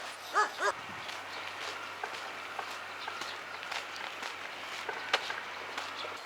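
A dog on a hillside street in Chișinău, Moldova, gives two sharp, close barks at the start, then footsteps crunch along steadily as someone walks uphill.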